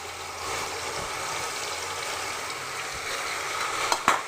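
Mustard paste poured into hot oil with nigella seeds, a soft, steady frying hiss with faint stirring and a couple of sharper clicks toward the end.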